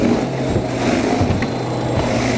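A Toro 60-volt cordless power shovel runs steadily while clearing snow off a deck, a constant close motor drone with no breaks or talking.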